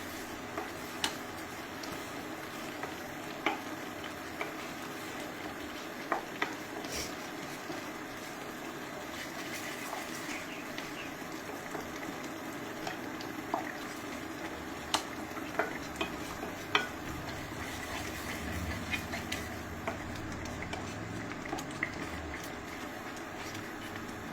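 Carrot halwa and sugar stirred in a pan, with irregular clicks and scrapes from the spoon over a steady, dense rumbling background. The stirring continues without a break and no one speaks.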